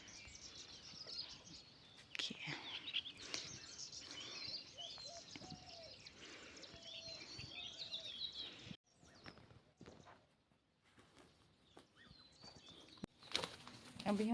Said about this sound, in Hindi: चिड़ियों की चहकने की आवाज़ आ रही है।